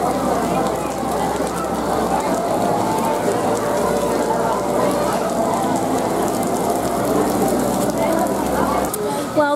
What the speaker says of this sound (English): I'm not going out in this rain right now.